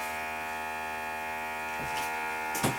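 A vacuum sealer pulls a vacuum on a bag of jerky, a steady close electric motor hum with a buzzing tone throughout, ending with a couple of brief clicks and rustles.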